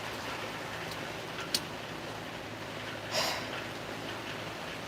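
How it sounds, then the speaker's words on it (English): Heavy rain falls steadily outside a woodturning workshop, a constant broadband hiss with a couple of brief louder patters, no one speaking over it. "Oh wow, it really started raining. Can you guys hear that?"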